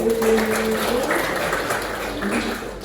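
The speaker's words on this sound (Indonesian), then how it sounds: "Tepuk tangan dulu." Congregation at a Sunday church service applauds, the clapping running steadily at moderate volume with a speaker's voice and faint music tones over it.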